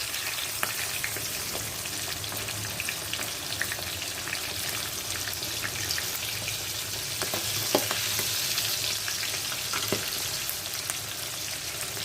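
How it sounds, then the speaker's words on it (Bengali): Split green chillies frying in hot oil: a continuous close crackling sizzle with scattered sharp pops, steady and fairly loud throughout, no speech. "এর মধ্যে কটা কাঁচা লঙ্কা ফাটিয়ে দিয়ে দিচ্ছি। তেলটা একটু ঝাল ঝাল হয়ে যাবে।"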